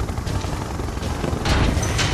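Siege chopper helicopter from Red Alert 2: Yuri's Revenge gives a continuous whirring rotor drone with a pulsing low thump, close and fairly loud, swelling slightly toward the end.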